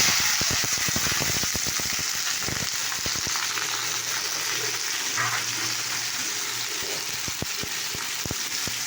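Green chili and potato leaves fry in hot oil with a continuous, crackling sizzle, punctuated early on by a quick run of sharp pops and clatters from stirring, then settling into a steady hiss.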